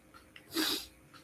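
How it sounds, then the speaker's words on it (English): A single close, breathy sneeze bursts out in a quiet room, short and hissy, with faint breaths just before and after. "oh, I gotta sneeze"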